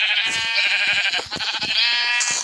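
A close, continuous wavering bleat from a sheep in Minecraft, loud and alone, with no talking.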